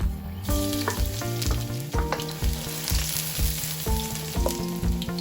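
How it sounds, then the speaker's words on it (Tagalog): Garlic sizzles in hot cooking oil, a loud close crackle with repeated clanks and scrapes of a utensil stirring the pan in a steady rhythm. "When the oil is hot, garlic."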